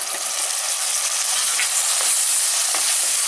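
Onion, garlic and tomato sauté steadily in a clay pot, with a continuous bright sizzle and faint stirring scrapes, and no voices.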